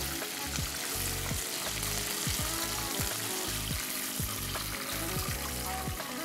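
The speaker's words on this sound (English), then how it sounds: "just give it a fry for about a good 30, 45 seconds" Chicken wings frying in hot oil, a dense, continuous sizzle and crackle close up with occasional stirring clinks, steady in loudness throughout.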